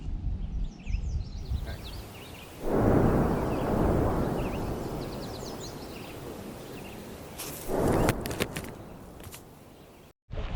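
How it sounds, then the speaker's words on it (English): Two deep distant booms of mortar or artillery fire from military war games, heard near the Mississippi River, each a low rolling rumble lasting a couple of seconds, with birds calling faintly in between. "we can hear what sounds like mortars coming in or artillery"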